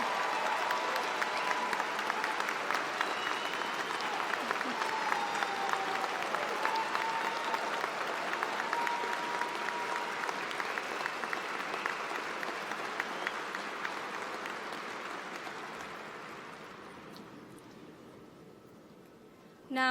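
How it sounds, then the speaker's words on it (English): A convocation audience claps and cheers in a large hall, with dense sustained applause and whoops that hold steady before gradually fading out. "Stand up and cheer for the Red for Ed movement."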